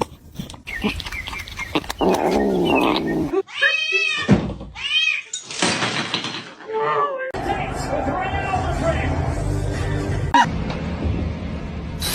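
Several kittens meow in short, high mewing calls, some close and loud, mixed with a person talking and handling noises throughout.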